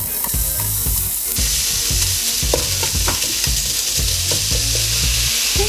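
Lean ground beef frying in a pot over medium-high heat, a loud continuous sizzle with repeated scraping stirs and clatters, close up and with no talking.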